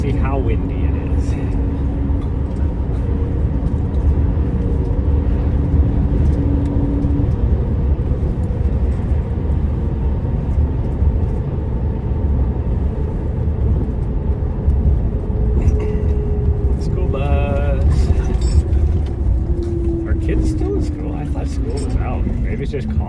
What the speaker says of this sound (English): Wow, there's a line of traffic coming now.